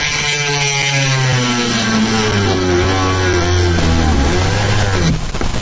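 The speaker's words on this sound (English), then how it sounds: "I've got to drill down here to get this so I can get the bottom section out." A power drill whines continuously, its pitch sliding and straining as it bites into plastic that melts and snags the bit, then cutting off abruptly near the end.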